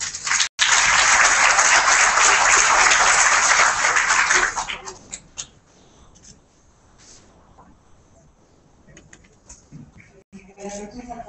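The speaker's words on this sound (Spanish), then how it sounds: "Decíamos por un fuerte aplauso" Dense clapping from an audience fills the first few seconds, then fades out, leaving a quiet room with faint scattered noise.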